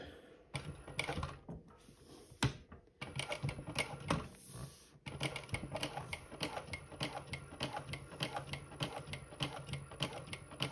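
A JACK H2 industrial sewing machine running in close-up, giving a rapid rhythmic mechanical clatter in bursts with short pauses, fairly quiet and with no talk.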